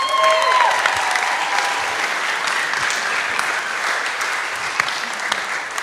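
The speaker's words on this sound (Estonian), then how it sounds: "Teeme suure aplausi." Audience applause at a youth camp concert-service on stage, a steady, full wash of clapping that carries unbroken from start to finish with a few sharper claps above it.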